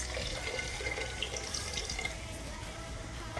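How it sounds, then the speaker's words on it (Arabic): Water pours steadily from a tap over lentils in a pot, a continuous close rushing splash that stays even for the whole stretch with no voices. "نضيف عليه مقدار من الماء يغطي العدس"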